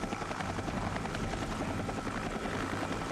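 Large CH-46 and CH-47 military helicopters thump and roar in a dense, continuous rotor wash, steady and loud from start to finish with no talking.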